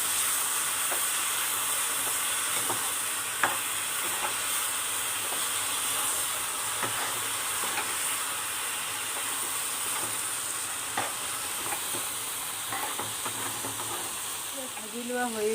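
Soaked moong dal sizzles and hisses steadily in a hot pan for Assamese muri ghonta, a continuous close frying sound with a few faint clicks and stirring scrapes.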